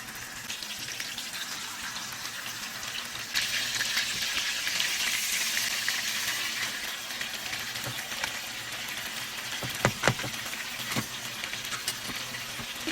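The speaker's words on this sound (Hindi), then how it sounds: "चपली कबाब को हम तकरीबन 7 मिनट तक एक साइड से फ्राई कर लेंगे" Chapli kebabs, Peshawari restaurant style, frying in hot oil in a pan, a steady close sizzle that swells louder partway through, with a few sharper spits and crackles near the end and no talking.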